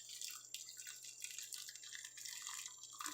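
Tea being poured from a Hamilton Beach programmable electric kettle into a cup, a steady, moderately close trickle of liquid running without a break for a few seconds, no one talking.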